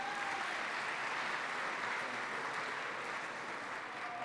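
Steady, dense applause from a large audience at a college athletics hall of fame induction ceremony, filling the hall evenly at moderate volume throughout without a break.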